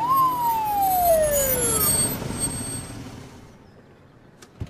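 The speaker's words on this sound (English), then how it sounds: "What's with the siren?" A loud siren wails with a descending sweep, then fades away into quieter background noise.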